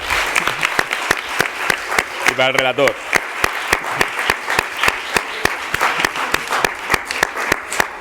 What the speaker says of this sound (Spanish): un gran aplauso para el profesor